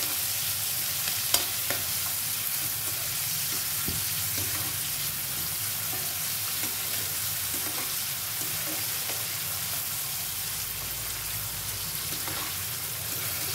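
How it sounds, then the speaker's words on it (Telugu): Chopped onions and green chillies fry in a pan for aloo kurma, giving a steady, close sizzle that runs unbroken throughout, with only a couple of faint knocks and no talking. "ఈ ఉల్లిపాయలు, పచ్చిమిరపకాయలు కొంచెం బాగా వేగాలి."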